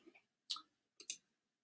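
Two soft, close clicks on a Chromebook, spaced about half a second apart, in a quiet room with no speech.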